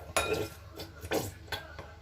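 Homemade play dough of starch and hair conditioner being stirred in a bowl, giving three or four separate soft scraping clinks of a utensil against the dish, close and fairly quiet.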